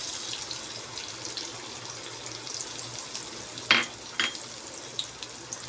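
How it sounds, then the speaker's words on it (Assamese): Finely chopped onions sizzle in hot oil with bay leaf, cloves, cardamom and whole cumin, a steady close hiss with a couple of brief clatters. "এয়া মই মিহি মিহিকৈ কুটি লোৱা পিঁয়াজ দিছোঁ"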